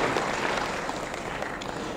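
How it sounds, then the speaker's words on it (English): Conference audience applauding a speaker at a data analytics and content marketing event, a dense, steady wash of many hands clapping at moderate distance, continuous for the whole stretch with no voices over it. "Give a round of applause to him."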